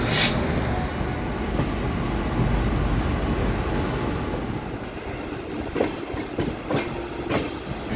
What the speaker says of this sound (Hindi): सामने डिपार्चर ले रही है अभी पटना कोटा एक्सप्रेस।